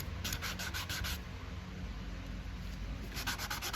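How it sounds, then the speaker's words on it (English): Buffing file rubbing across acrylic press-on nails, a steady close scratchy sanding that runs almost without pause, with brisk rhythmic strokes at the start and again near the end. "I'm gonna go ahead and buff them"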